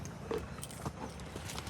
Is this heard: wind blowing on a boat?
no